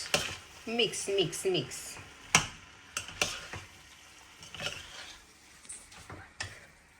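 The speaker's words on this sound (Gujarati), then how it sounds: "હવે મિક્સ." A spoon stirs a spiced mixture of red kidney beans and dark soy sauce in a pan, with scraping, clicking and soft sizzling, the stirring irregular and close throughout, with some muffled background noise.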